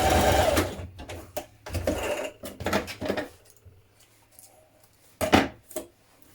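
A sewing machine bastes the central front seam of dungarees in several bursts of rapid, close stitching rattle, separated by short pauses and handling clicks.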